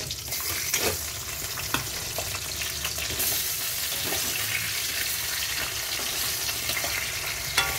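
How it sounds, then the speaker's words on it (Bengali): Hilsa fish pieces and heads fry in hot oil with black cumin seeds in a pan, giving a loud, continuous close-up sizzle with occasional crackles and pops throughout. "মাছগুলো ভাজা হোক"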